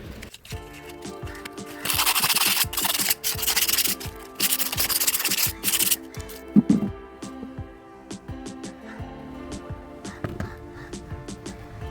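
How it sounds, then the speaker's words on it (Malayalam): A flower pot that held a Dendrobium orchid is scrubbed and polished before repainting, giving bursts of harsh, gritty rubbing strokes at close range, alternating with quieter scraping and handling noises. "ഇനി ഈ പോട്ട് തേച്ച് മിനുക്കിയെടുത്ത് റീപെയിൻറ്റ് ചെയ്ത് നമുക്ക് റീപോട്ട് ചെയ്യാം"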